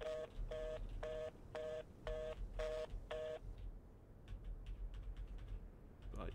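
In a video game, a telephone's keypad beeps out seven evenly spaced dialing tones, then gives way to quiet handset clicks and rustling, all fairly soft and heard without talk.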